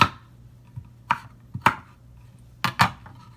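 A knife chops through fresh galangal on a cutting board in about six sharp, separate thuds at an irregular pace, close by and with no voices.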